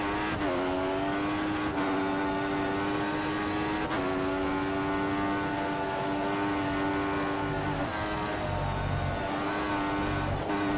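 Formula 1 race car in the F1 2014 game on the US circuit, engine screaming at a high steady pitch as it powers down a straight, revs climbing between sharp gearshift dips, loud and continuous without talk.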